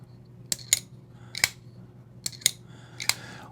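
A Microtech LUDT knife's action is worked several times, giving sharp, loud metallic clicks, some in quick pairs, heard close against a quiet background.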